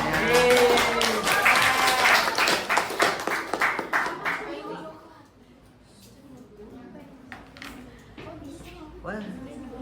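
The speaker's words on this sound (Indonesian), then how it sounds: "Boleh tepuk tangannya." An audience at a student leadership programme bursts into dense clapping that fades after about five seconds, followed by scattered taps and quiet room sound.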